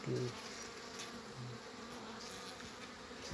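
Small honeybees on their first flight, a steady dense buzzing drone of many insects close by, continuous and fairly even in loudness with no speech.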